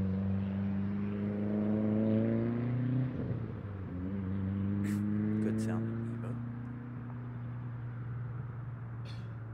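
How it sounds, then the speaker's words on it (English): A loud car passes near an airport spotting location at RDU Raleigh-Durham, its engine hum and rumble swelling then fading over several seconds as someone talks over it. "Nice loud car goes by."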